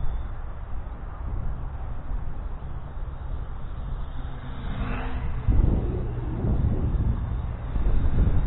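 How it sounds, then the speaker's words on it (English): Strong wind of 30 to 40 km/h buffets the microphone in low, rumbling gusts that swell louder toward the end, with a faint drone from a flying HJHRC HJ96 drone under it. "And it's pretty windy."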